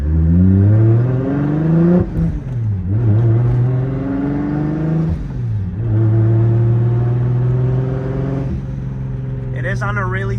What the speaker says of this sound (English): this car just makes all the coolest noises ever.